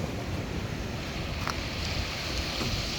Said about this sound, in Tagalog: Grabe mga alon ba, guys.